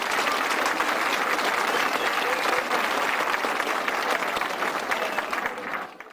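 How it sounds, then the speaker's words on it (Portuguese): A Brazilian literature-and-resistance talk audience breaks into a loud, dense round of applause that holds steady, then thins and fades near the end. "Uma salva de palmas."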